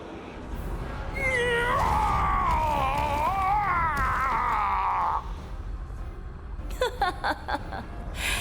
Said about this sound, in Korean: 비명 소리만큼은 사내다운 걸.